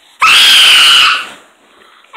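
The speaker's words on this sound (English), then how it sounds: "You just gotta scream it now." A person lets out one loud, sustained scream as a truth-or-dare task, a piercing shriek held for about a second before trailing off into quiet.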